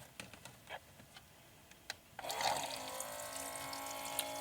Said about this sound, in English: we're just going to fill it up with water, cold water